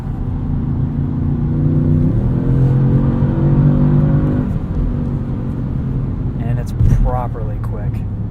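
A 2016 Audi S7 engine revs and pulls hard as the car is driven near its limit, a loud rising drone with shifting pitch, a voice talking over it.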